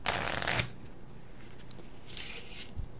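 Two quick bursts of cards being riffle-shuffled, one at the start and another a moment later, crisp and close.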